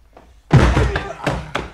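A door in an audiobook scene is forced open, heard as a heavy close thud followed by rumbling impacts and a couple of sharp knocks.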